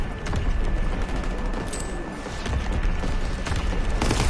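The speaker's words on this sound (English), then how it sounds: "Incoming enemy artillery. Get to cover." Enemy artillery and gunfire pound in a World War II shooter, a dense, continuous rumble of blasts and crackling shots that stays loud and close throughout.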